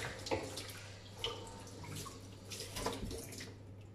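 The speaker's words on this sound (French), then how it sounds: "je rince la cuillère" A spoon being rinsed under a running tap, with a quiet, continuous wash of water punctuated by a few soft splashes and clinks, close by and faint.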